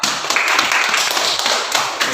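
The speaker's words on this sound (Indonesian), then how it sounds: "Kasih tepuk tangan untuk kelompok 2" A classroom of students claps for a student group, a dense, steady patter of many hands filling the whole stretch at close range with no talk over it.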